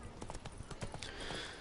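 Roach, a horse in The Witcher 3 game, clip-clopping along with steady hoofbeats, fairly close, over a constant background wash of game ambience, with no talking.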